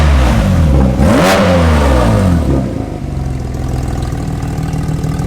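A Porsche 992 GT3 with a modified exhaust revs sharply up and back down, loud and close, then settles into a steady idle.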